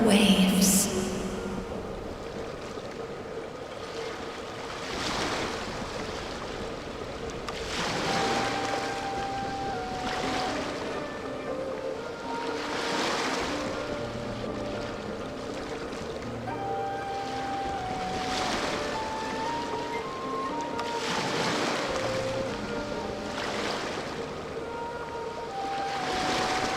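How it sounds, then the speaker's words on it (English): Ocean waves wash in the Genshin Impact game, soft surf swells rising and falling every few seconds under gentle ambient music tones, steady and unhurried throughout. "Go to where you can hear the sound of the waves"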